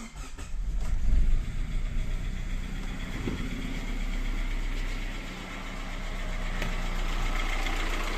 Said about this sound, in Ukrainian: Чуєте, як файно працює тачка?